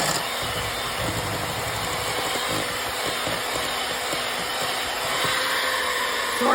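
A blender whirs steadily while blending a nectarine gooey butter cake filling, a loud constant motor whine that holds for the whole stretch with no voices.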